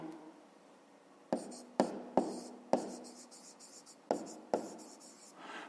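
Pen strokes of a math exercise being written on paper, with several sharp taps and scratches spaced irregularly over a quiet background, close and fairly clear.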